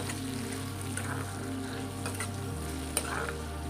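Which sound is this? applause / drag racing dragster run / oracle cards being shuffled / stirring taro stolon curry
stirring taro stolon curry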